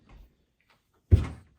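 Doors of a 48-inch stainless steel commercial sandwich prep table refrigerator opening, giving one brief, fairly loud thud and rattle after a faint soft knock, with no talking.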